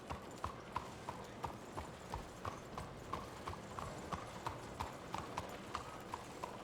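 Horse hooves clip-clop at a steady walking rhythm in a Red Dead Redemption 2 town, with regular moderately close hoofbeats over a dense background ambience.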